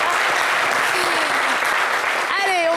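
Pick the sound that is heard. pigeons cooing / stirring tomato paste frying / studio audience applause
studio audience applause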